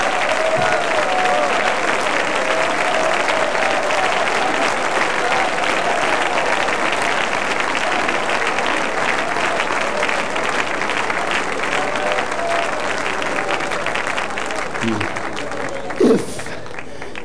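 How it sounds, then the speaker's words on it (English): A church congregation at a prayer summit claps hands together in sustained, loud, dense applause that holds steady throughout, with a brief thump near the end and no talking over it. "Oh, clap your hands again."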